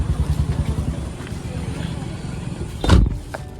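Road traffic rumbles under people talking, and one vehicle swooshes past close by near the end.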